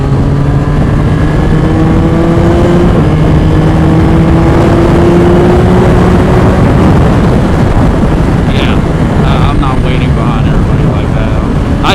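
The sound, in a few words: Yamaha R9 motorcycle engine revving with aftermarket exhaust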